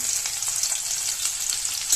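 Onions crackle and sizzle steadily in a hot pan, a constant bright frying hiss with occasional faint stirring. No voices.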